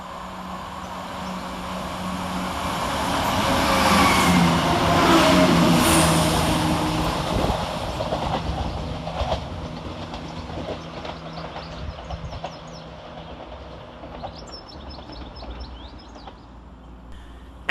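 Passenger train 17450 from Inverness to Edinburgh Waverley emerges from a tunnel at North Queensferry station, a rising rumble and roar that swells to a peak, then fades with rattling wheels and faint squeals.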